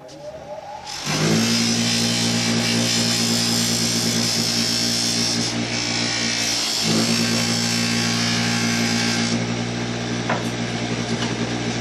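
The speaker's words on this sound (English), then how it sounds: "Now we'll go ahead and take it to the buffing wheel with some green jeweler's rouge." A bench buffing wheel loaded with green jeweler's rouge polishes a small utility knife blade, giving a loud, steady motor whine and rushing hiss that starts abruptly, dips briefly midway and then carries on unbroken.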